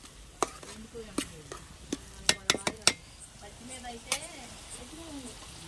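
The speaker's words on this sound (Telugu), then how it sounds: "ఇదైతే ఒకసారి తిప్పుకుంటున్నానండి. అడుగంటకుండా మధ్య మధ్యలో తిప్పుకుంటూ ఉండాలండి." Raw prawn curry gets stirred in a pan, with a spoon clinking and scraping against the metal in scattered, sharp taps over a soft sizzle, while someone talks quietly in the background.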